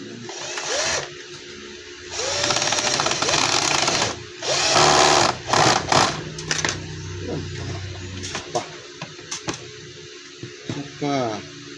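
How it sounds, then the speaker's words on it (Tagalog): A power tool drives screws into the housing of a blower for a PDC type HY4008 unit with LCD control, sounding in loud whirring bursts with pauses between them while a person talks nearby. "paglalagay ng tornilyo dito sa blower"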